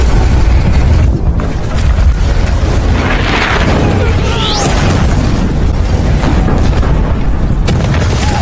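A chemical gas tank explodes at a factory in a film, giving a loud, sustained roar of blasts and rumbling fire. A rising whoosh cuts through partway, and narration may run faintly beneath it.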